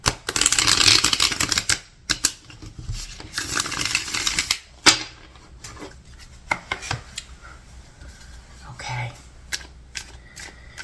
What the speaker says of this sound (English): Taurus, I'm going to give this one more shuffle.